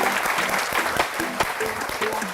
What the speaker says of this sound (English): Just give him a big round of applause for accomplishing that.